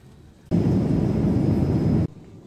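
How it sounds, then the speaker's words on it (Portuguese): Steady roar of an airplane's turbine engines inside the cabin at night during a flight to Lisbon, a dense broadband drone that holds loud and unbroken for about a second and a half before cutting off. "o barulho da turbina é muito alto"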